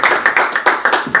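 A church congregation claps in a quick, even rhythm. The hand claps are sharp and close, about six of them in a little over a second, with no talk over them.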